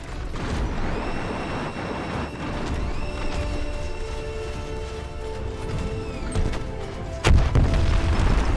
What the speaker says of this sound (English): Right shoulder, rocket launcher.